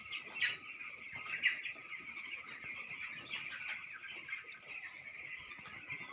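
Broiler chickens cluck and chirp nearby in a soft, steady chorus, with brief louder calls standing out over low background noise and no speech.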